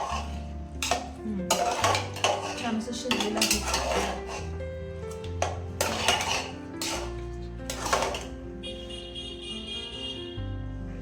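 Grated carrot halwa is stirred in a pressure cooker with a metal spoon, giving irregular clanks and scrapes against the pot, with a low steady hum beneath and no voices.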